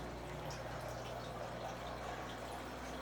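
Water splashes and trickles faintly at a home fish tank during maintenance, a soft continuous pouring and dripping under a low steady hum.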